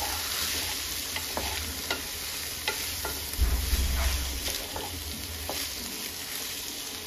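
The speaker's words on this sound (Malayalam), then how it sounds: "നെയ്യ് എണ്ണയിലൊക്കെ ഒന്ന് വറുത്തെടുക്കാം." Rice being stirred and fried in ghee and oil for Kerala ghee rice, a steady close sizzle with repeated scraping stir strokes throughout, briefly louder near the middle, with no talk.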